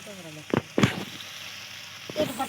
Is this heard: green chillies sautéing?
yes